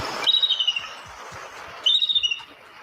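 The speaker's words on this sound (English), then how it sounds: "the sound paired with this eagle is not a bald eagle, but actually a hawk, most likely a red-tailed hawk" A red-tailed hawk gives two harsh, descending screams, the first near the start and the second about a second and a half later, loud and alone over a steady background hiss.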